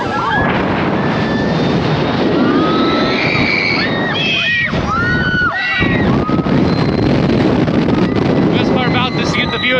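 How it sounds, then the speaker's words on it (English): Rushing wind roars loudly and steadily past riders on the Serengeti Flyer swinging ride at Busch Gardens Tampa, with faint high whistling and squealing tones threaded through the constant blast. "Oh, this feels really good with the wind right now."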